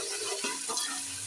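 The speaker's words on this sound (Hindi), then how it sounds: "तो ये हम पूरा डाल देंगे और इसको थोड़ा सा फ्राई करेंगे" Blended spice masala for beef yakhni biryani frying in a pan: a steady close sizzle with a couple of soft stirring scrapes.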